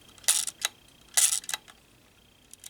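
Two crisp mechanical clicks from a Ciro Flex Model B twin-lens camera shutter, close and isolated, followed by a couple of faint ticks.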